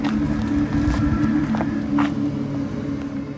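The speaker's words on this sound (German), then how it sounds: "Und das ist der Bewegungssound." A Mercedes-AMG EQE 53 electric car moves with a steady, low synthetic hum from its artificial driving sound, with faint tyre and street noise underneath.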